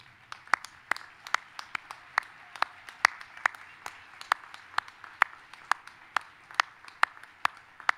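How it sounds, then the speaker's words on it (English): Graduates clap for faculty and staff at a spring commencement ceremony, a sparse, steady scatter of individual sharp claps from a small, distant group rather than a roaring crowd. "stand and give us a round of applause for your faculty and staff"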